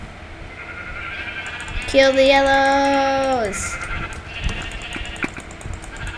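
A Minecraft sheep gives one loud, sustained bleat lasting about a second and a half amid a multiplayer mini-game, with excited players talking around it.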